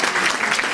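Audience applause at a school event for kids' design class, a dense, steady wash of many hands clapping close by, continuous for under a second.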